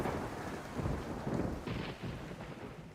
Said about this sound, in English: A lot of thunder.